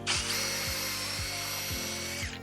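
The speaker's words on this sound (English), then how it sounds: "Real simple, drill a hole." A power drill with a tapered bit boring a hole while installing cabinet hardware, a steady high whine held for over two seconds with faint repeated low thumps underneath, close and loud, no talk.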